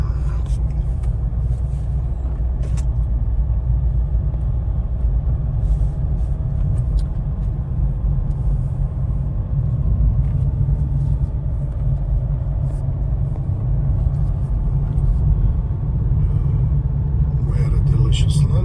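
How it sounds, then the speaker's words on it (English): Car driving along a mountain road in France, a loud steady interior rumble of engine and tyres throughout, with voices talking at times over the drone. "Little drive through the mountains."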